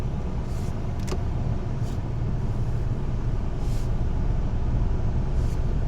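A car in a driving lesson rolls forward as the brake is released, a steady low rumble of the engine and road noise with a few faint clicks and hisses.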